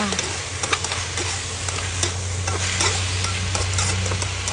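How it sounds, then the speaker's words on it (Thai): Holy basil, chicken liver and pickled bamboo shoots are stir-fried over high heat, a dense continuous sizzle with rapid clattering spatula strokes, loud and close throughout. "ใส่ใบกะเพราค่ะ ผัดให้ใบกะเพราสลดนิดนึงค่ะ ต้องใช้ไฟแรงนะคะ"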